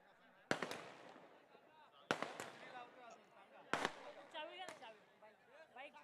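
Firecrackers burst at an outdoor tournament prize ceremony, giving four sharp loud bangs spaced a second or two apart, with a crowd and an announcer talking in between.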